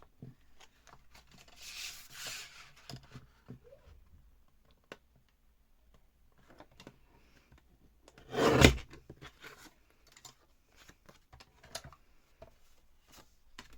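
A craft panel is cut to height with a short rasping cut standing out near the end, surrounded by faint scattered taps and rubbing sounds from handling the material, no talk.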